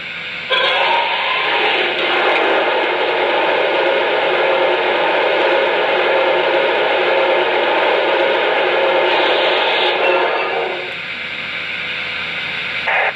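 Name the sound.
model train water filling tender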